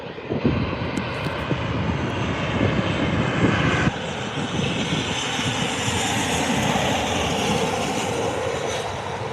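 A Ryanair airliner lands at Lanzarote Airport with a loud, sustained jet engine roar that stays steady and close throughout, with no voices over it.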